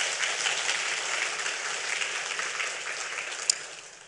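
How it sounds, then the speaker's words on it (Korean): A church congregation at a Korean worship service claps in a steady, even round of applause heard at a moderate distance, with no talking over it. "우리 하나님께 박수로 영광 돌리겠습니다."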